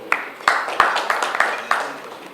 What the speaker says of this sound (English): Another round of applause for our CEO.